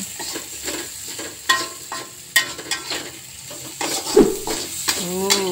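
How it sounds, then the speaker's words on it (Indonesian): Food seasoned with salt, MSG and ground pepper being stirred in a pan, with irregular scraping and clanking strokes over a faint sizzle and a brief voice near the end. "Diaduk-aduk."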